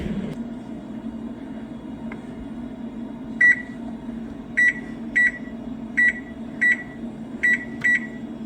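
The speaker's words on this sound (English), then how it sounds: "the 2 frozen 12-ounce packages of cauliflower, which we're going to put in the microwave" A microwave oven heats two frozen 12-ounce packages of cauliflower with a steady low hum, then a series of short, sharp beeps sounds in pairs toward the end.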